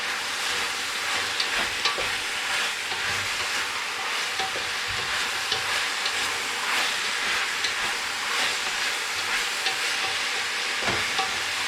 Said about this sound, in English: Seems like it has a good sizzle still.